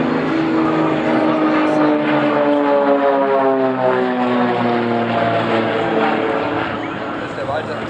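An Extra aerobatic propeller plane performs aerobatics at a 2014 Wipperfürth air show, its engine droning loudly and steadily with a pitch that slowly rises and falls as it manoeuvres.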